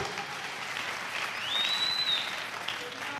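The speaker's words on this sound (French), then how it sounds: "Acclamons très fort pour le roi des rois" A church congregation applauds together in a sustained wash of clapping that swells slightly midway, with a faint voice underneath.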